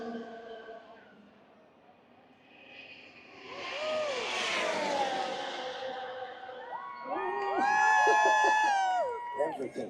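A Formula One car engine on throttle at the Las Vegas Grand Prix swells into a loud rushing pass, then a higher whining engine note rises and holds, all under a commentator's voice.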